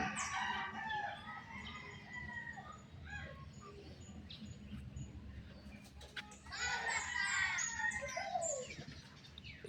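Free-roaming chickens outdoors, with a rooster crowing loudly and hens clucking nearby, the calls rising again near the end over steady background noise; a voice is faintly heard.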